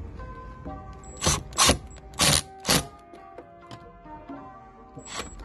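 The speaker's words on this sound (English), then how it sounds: "we'll just go ahead and secure all the screws" Ratchet tightening screws on the front driver door panel of a 2015 Chevrolet Tahoe, heard as four loud clicking bursts in quick succession followed by one more, with faint mechanical handling noise between them and no talk.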